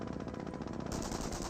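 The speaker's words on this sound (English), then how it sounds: "MG42 eyeing for this lumber building" An MG42 machine gun fires a sustained rapid burst in the real-time strategy game Company of Heroes, a dense, fast rattle of shots, steady and fairly close.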